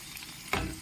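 Khaja pastries deep frying in hot oil give a steady, close bubbling hiss that swells suddenly midway into a louder, fuller sizzle, with no talking.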